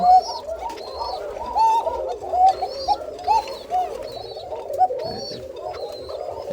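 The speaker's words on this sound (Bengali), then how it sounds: "খালি আপনাদেরকে ডাক দেখালাম ডাক দেখালাম এই যে এই পাশেও কবুতর আছে" Several white pigeons coo continuously in overlapping, rhythmic calls at a pigeon farm, close by and fairly loud, with faint flutters and bird chatter around them.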